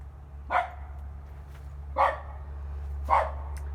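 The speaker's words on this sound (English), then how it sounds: "That's our little doggy." A small dog barks three times beside a greenhouse, spaced about a second or more apart, moderately close, over a steady low hum.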